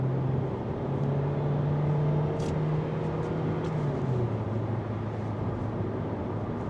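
A 2025 Hyundai Elantra Hybrid pushed hard through a corner, giving a steady drone of engine and road noise with a low tone that rises slightly and then settles. No one speaks over it.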